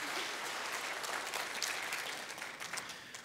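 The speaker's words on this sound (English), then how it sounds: "Would you give them a big round of applause, please?" Steady, dense applause from a church congregation at a missions conference fills the whole stretch, loud and even before tapering slightly at the end.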